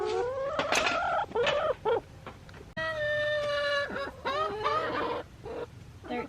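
A chicken clucks and squawks in loud, close bursts of varying pitch on a homestead, with short pauses between the calls and no talk over them.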